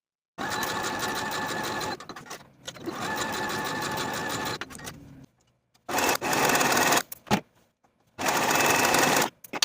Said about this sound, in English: Sew the side seams with a 3/8 inch seam allowance.